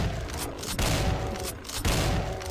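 Rapid gunfire at pinky demons in DOOM, a dense burst of blasts in the Shroud of Ashes Undead Keep map, with two or three louder punches standing out over a constant roar of game noise.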